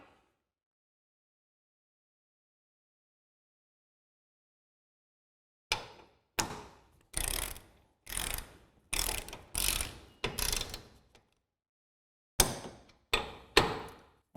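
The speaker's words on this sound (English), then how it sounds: "We're going to set our torque wrench to 78 foot-pounds." A torque wrench with a 3/4 inch socket ratcheting hitch bolts on a Blue Ox TrackPro Airstream hitch, bursts of rapid clicking strokes in quick succession after a long silence, close and clear.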